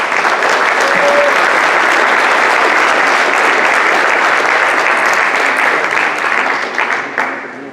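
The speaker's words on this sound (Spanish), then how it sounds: "Un fuerte aplauso nuevamente." Loud, sustained applause from an audience at an American Society of Mexico event honoring tourism secretary Miguel Torruco, steady and dense for several seconds before tapering off at the end.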